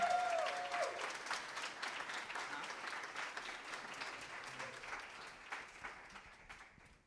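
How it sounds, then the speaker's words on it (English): An audience applauds at a Marsha P. Johnson tribute event, a dense crowd of clapping that begins strong and gradually fades over several seconds, with a faint brief tone at the start. "Everyone give Zora a round of applause"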